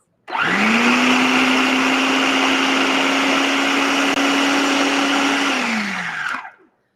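A food processor grinds nuts toward a nut butter texture in one steady, loud, continuous whir lasting several seconds, then winds down and stops at the end.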